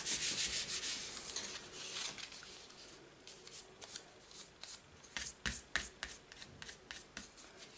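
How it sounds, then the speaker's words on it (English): Close, soft rubbing and brushing of a hand or tool against the back of a paper card during distress-ink card making, in irregular scratchy strokes with short pauses, no talking. "So I'm just going to rub that from the back because that will help it adhere."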